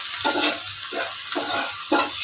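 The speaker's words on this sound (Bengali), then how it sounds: "ওই যে ভাত ভাজি করছি" Cooked rice frying in a pan, a loud, steady sizzle broken by rhythmic scraping stirs roughly twice a second, close up and alone.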